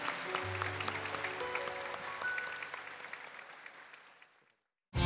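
Congregation applauding during a Catholic sermon, soft continuous clapping mixed with sustained organ-like tones that fades to silence before a short burst at the very end.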